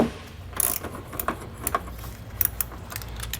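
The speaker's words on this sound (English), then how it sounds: "we're going to grab a 17mm socket and remove that large bolt there in the center to start." Metallic clicks and rattles from a 17mm socket wrench breaking loose a large bolt on the frame of a 2021 Toyota Highlander, several short close ratcheting bursts during a trailer hitch install.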